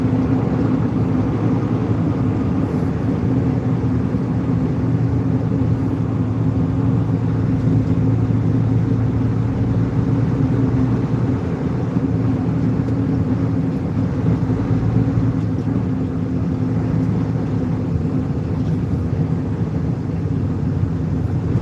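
A truck engine with a sleeper cab drones steadily while driving, a constant deep rumble heard from inside the cab with no talking.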